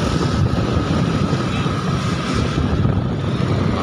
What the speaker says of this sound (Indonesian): Anginnya agak kencang ini ya kan.